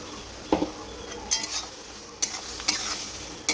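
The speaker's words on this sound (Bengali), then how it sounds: "দিয়ে ভালো করে ভাজা ভাজা করবো।" Prawns sizzle in spiced masala in a pan, with a constant frying hiss broken by several sharp scraping strokes of a spatula stirring them.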